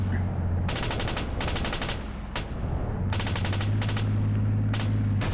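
A coaxial machine gun fires from a vehicle in ArmA 3 in two long sustained bursts split by a short pause, loud and close over a low engine drone.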